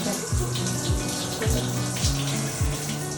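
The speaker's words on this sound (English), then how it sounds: "I love this cave shower right now." Water running from a shower in a small, enclosed cave-like home shower, a steady gushing splash with a rhythmic pump-like pulse repeating about every half second, heard alone without talking.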